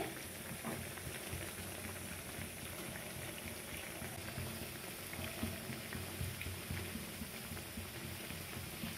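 Raksha Bandhan sweets frying in hot oil until reddened, giving a steady, faint bubbling sizzle that continues evenly throughout with no talking.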